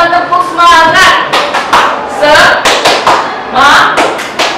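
Rhythmic group hand clapping in a classroom, a teacher-led spirit clap routine, sharp claps falling in short patterned bursts mixed with voices chanting along.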